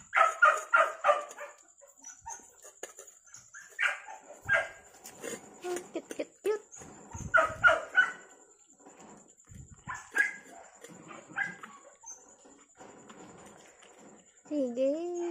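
A puppy trying solid food for the first time yips and whimpers in short high bursts near the microphone, mixed with people talking and quiet stretches between the cries.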